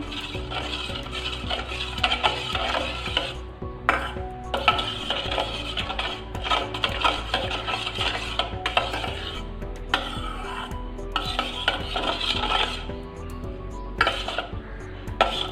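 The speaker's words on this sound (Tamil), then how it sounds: "இப்போ இதில் வந்து நான் வந்து ஒரு 1/2 கப்பு மில்க் சேர்த்துக்கிறேன். அதையும் நம்ம நல்லா கலந்து விட்டுடலாம்" Beaten egg and milk are stirred together for French toast, with a close, continuous scraping and clinking of a spoon against a bowl in uneven bursts and short pauses, and no talking.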